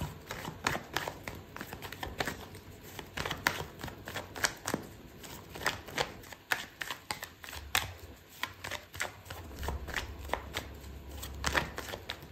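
Tarot cards are shuffled in a quiet room, giving a long run of close, crisp riffles and soft slaps in uneven bursts, with no voices.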